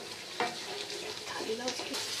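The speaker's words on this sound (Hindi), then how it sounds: "इसको हम 10 से 15 मिनट फुल फ्लेम पे भून लेंगे अच्छे से" Spice paste fries in oil over a full flame for a white chicken gravy, producing a soft continuous sizzle with occasional stirring scrapes, quiet and close.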